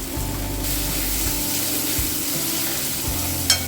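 Chopped tomatoes with salt sizzling and frying in a pan, a close, steady hiss with a brief stirring clatter near the end and no talk.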